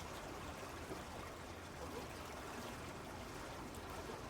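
Small stream trickling through the Korean countryside, a steady, even wash of water noise that holds at a constant level throughout, with no voices over it.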